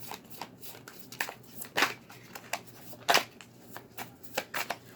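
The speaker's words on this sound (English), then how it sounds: "let me just shuffle some more cards and dig a little deeper" Tarot-style reading cards are shuffled repeatedly: quick riffling bursts, two louder ones, mixed with lighter clicks and slides of cards, close and clear with no talking.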